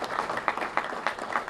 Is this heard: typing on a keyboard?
no